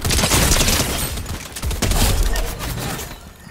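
A grenade blast in the Fortnite video game, a loud, close burst of rumbling explosion noise with crackling gunfire-like bursts, fading out over a few seconds, with no talk.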